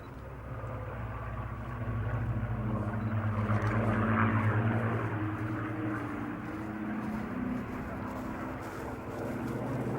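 A WWII propeller warbird, a Buchón chasing a Spitfire during an air show display, drones steadily overhead, its engine swelling in loudness as it passes at mid-distance and then settling into a sustained hum.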